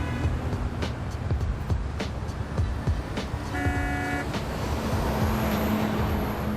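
Steady road traffic, with cars and buses passing and a horn tooting near the start, continuous and fairly loud throughout.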